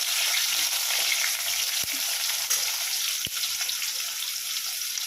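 Tomato goes into a hot pan of fried ginger and spices while cooking khichuri, giving a steady, close, loud sizzle with a couple of sharp taps from a utensil.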